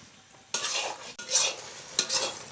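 Jujube pickle with jaggery being stirred in a pan, a spoon scraping and pushing the thick mixture in several close, loud bursts separated by brief pauses.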